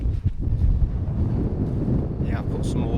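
Strong gusty wind buffets the microphone on an exposed Lake District fell ridge near Helvellyn, a loud rough roar throughout with faint bits of voice.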